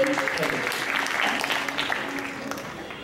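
A student audience at a university end-of-term performance show applauds to welcome a band, moderately loud clapping that carries on under a voice talking and fades slightly toward the end.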